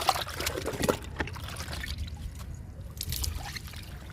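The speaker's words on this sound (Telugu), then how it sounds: "ఈ మొక్కకి ఇస్తున్నాను లిక్విడ్" Liquid fertilizer trickles and drips from a container onto a potted plant in a few short pours, close and moderately loud, with no voices.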